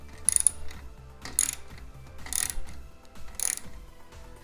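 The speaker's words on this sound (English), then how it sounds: "now I can go ahead and torque the bolts down manually" A manual wrench ratcheting while tightening bolts on a OneLap G801 smart spin bike, four short clicking bursts spaced about a second apart over a low mechanical hum, close and moderately loud.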